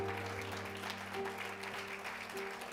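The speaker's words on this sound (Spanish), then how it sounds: "denle un aplauso al Señor" Church congregation applauding during a sermon, a diffuse wash of clapping blended under sustained instrumental tones and a faint voice.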